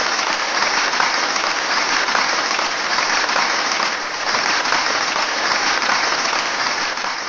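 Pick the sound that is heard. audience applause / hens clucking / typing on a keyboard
audience applause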